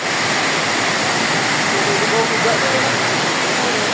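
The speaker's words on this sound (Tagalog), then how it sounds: "Agos ng tubig, ganda." Steady rushing water from a river at Wawa Dam, Montalban, a dense continuous wash close by, with no pauses.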